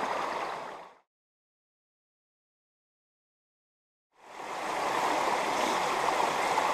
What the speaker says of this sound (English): I'm focusing on the burn water coming through